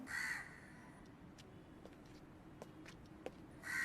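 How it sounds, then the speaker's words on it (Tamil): A crow caws loudly nearby at the start and again at the end, with faint ticks and rustles in the quiet between. "ஸோ காக்கா சவுண்ட் கேட்குது."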